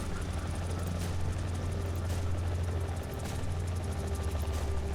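A steady Mi-24P helicopter rotor thrum in War Thunder with a low, pulsing drone, constant and fairly loud throughout, no voices.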